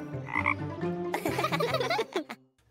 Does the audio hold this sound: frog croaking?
yes